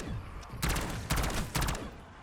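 Three short, loud bursts of automatic rifle fire in Call of Duty Black Ops 6 Zombies, each lasting about a third of a second, separated by brief gaps over a low background hum.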